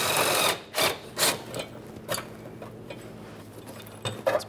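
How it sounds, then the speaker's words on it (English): A 16mm mounting bolt on the fuel tank strap of a 2007-2017 Jeep Patriot is removed, heard as a loud whir of a power tool at the start, then bursts of ratcheting and clanks. "You can see a 16mm mounting bolt. We're going to remove that now."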